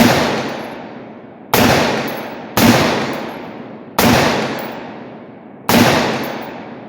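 Five loud gunshots from a 7.5 inch AR rifle fired at a 100-yard range, spaced unevenly about one to two seconds apart, each a sharp crack followed by a long decaying echo, with no talking.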